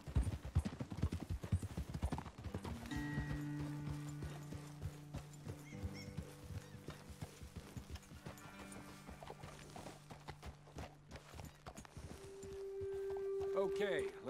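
Horse hooves clip-clopping in Red Dead Redemption 2, with several horses walking in a rapid, uneven rhythm that slows and fades, alongside a neigh and background music.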